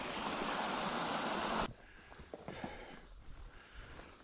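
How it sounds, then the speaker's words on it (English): Spring water pours from a pipe into bottles, a loud, steady rushing that stops abruptly partway through, leaving quiet outdoor ambience with a few soft knocks and rustles. "they fill their water jugs out of that pipe right down there"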